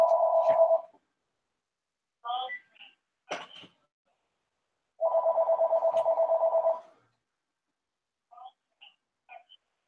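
A telephone rings in a quiet room: two long, loud warbling bursts of ringtone with short chirping tones in between and silence around them.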